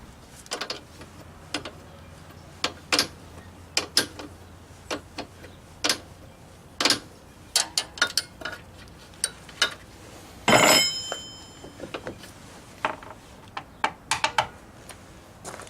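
A wrench works loose a 19 mm bolt on the panhard bar of a go-kart frame during a dune buggy build, giving sharp, irregular metallic ticks and clinks close by, with one louder rattling clank midway.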